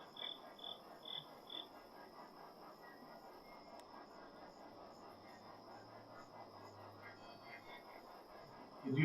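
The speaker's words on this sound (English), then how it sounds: "Good grief, the cricket's loud." Crickets chirp loudly at night outside the McCutchen Theater, a steady, dense insect trill filling the background with a faint pulsing call near the start, no voices over it.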